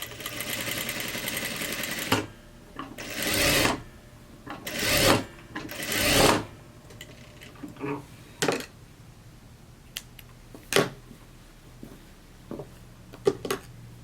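A home sewing machine backstitches, with three short runs of rapid stitching in a row followed by scattered clicks and taps of handling the fabric and machine in a quiet room.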